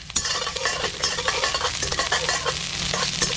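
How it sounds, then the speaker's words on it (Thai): Lemongrass and kaffir lime leaves for tom yum stir-fried in a hot pan, a steady close sizzle broken by repeated scraping and stirring strokes throughout, with no voices. "ผัดเครื่องต้มยำให้หอมหมดเลย"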